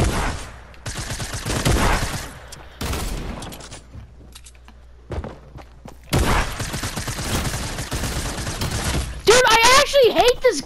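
Machine guns fire in a shooting video game in rapid, dense volleys with brief lulls, while a person talks over the action.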